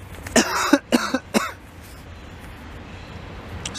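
A burst of several harsh coughs in the first second and a half, close and loud, followed by quiet room background.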